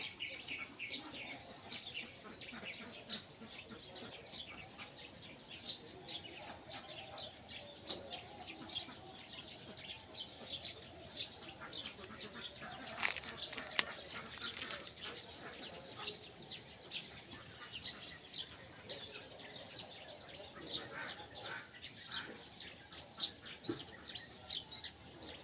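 Birds chirp and call over rice fields in the Indonesian countryside, faint scattered tweets above a steady insect drone and a constant high hum, distant and calm throughout.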